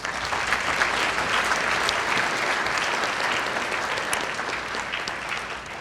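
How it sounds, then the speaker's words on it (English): Banquet audience at a 4-H awards of excellence dinner gives the winners a big round of applause, a loud, even roar of many hands clapping that holds steady for several seconds without speech. "Let's give all these winners a big round of applause"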